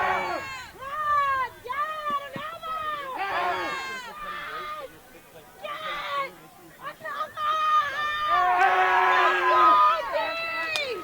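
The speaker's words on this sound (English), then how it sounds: "AMP just had a massive cheer directly in front of us" Ultimate frisbee fans at a 2017 US Open mixed pool play game cheer loudly nearby, with whoops and shouted voices rising in waves over a continuous crowd din.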